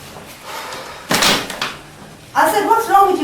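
Heavy knocking and banging on a household door comes in two bursts, loud and close, with talking in the room between them.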